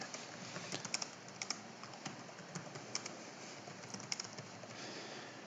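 Quiet computer keyboard typing with irregular clicks and sharper key strikes, as from the space bar and enter key, set against a steady faint background hiss.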